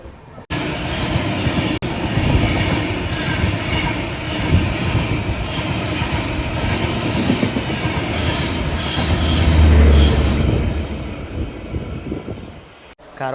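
The Karwar–Yesvantpur Express runs on a single-line track near Nelamangala, producing a loud, continuous rumble with rhythmic clickety-clack wheel beats that swells and then fades over about thirteen seconds.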